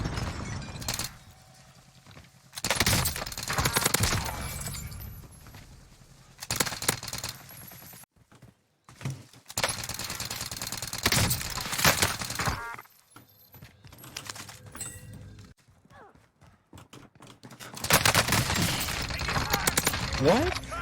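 Milano assault rifle fire in the Warzone video game: several loud bursts of rapid automatic shots separated by short lulls, with game effects and a voice talking in between.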